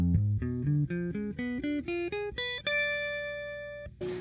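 A quick diminished arpeggio of plucked guitar notes climbs upward in an even rhythm, ending on a sustained ringing note, followed by a short noise.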